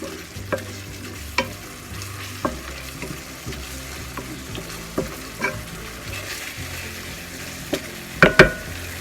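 Frog meat sizzling in a hot pan while a utensil stirs it, with soft scrapes and occasional sharp clinks against the pan.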